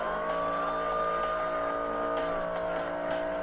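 Video-game police chase: cars race with a steady, droning engine whine and sustained tonal hum, a constant close mechanical roar with no talk.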